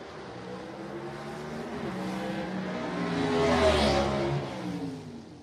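Gasser drag race cars launch at Shadyside Dragway, engines revving and roaring as they pass, the sound swelling to a peak around the middle and then fading, heard from a distance without talk.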